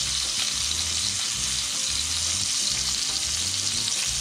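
A sous vide steak sears in a hot pan, giving a loud, steady, close sizzle that runs unbroken throughout, with a low crackling rumble underneath and no voices.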